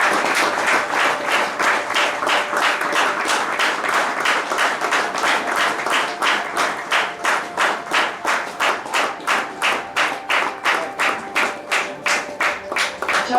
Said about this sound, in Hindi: तो आपके सामने मैं बुलाना चाहता हूँ मिस्टर शेख को, जोरदार तालियों के साथ उनका स्वागत किया।